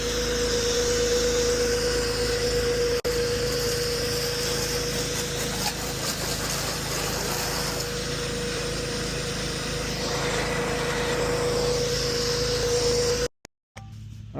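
A Comet P40 pressure washer engine runs at about half throttle, giving a steady, droning hum with spray hiss over it, continuous for roughly thirteen seconds before cutting out with a few brief dropouts.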